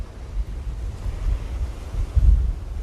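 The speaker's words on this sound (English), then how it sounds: "it's going to be very windy" Gusting wind at seaside cliffs buffets the microphone in low, uneven rumbles, swelling and easing in waves with no other sounds.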